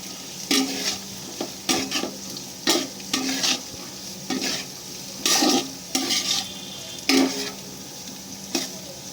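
Chopped vegetables for veg fried rice stirred in a hot frying pan: a steady soft sizzle broken by regular scraping bursts of the spoon against the pan, about one each second.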